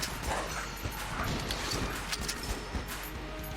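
Dogs bark in the action game Enter the Gungeon, short yips and barks scattered over busy combat noise and a continuous low game rumble.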